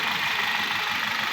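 Idling engine of a 2011 Hyundai H-1 van, heavy oil sludge inside, producing a steady mid-pitched rumble with a faint ticking knock, continuous and close throughout.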